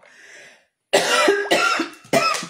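Three loud, raspy coughs in a row close by, following a brief murmur of voice.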